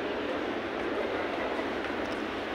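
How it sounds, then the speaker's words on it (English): Singapore MRT train approaching a station on the way to Sentosa Island, a steady, fairly loud rushing rumble that holds constant throughout with a faint hint of wheel noise. "Oh, the train is approaching now."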